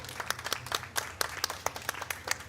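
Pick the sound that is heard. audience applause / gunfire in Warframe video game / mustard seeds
audience applause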